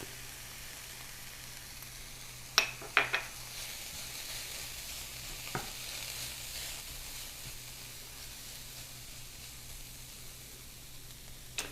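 Ginger and garlic sizzle in a hot pan with no oil, a steady soft frying hiss broken by a few clinks of a utensil stirring.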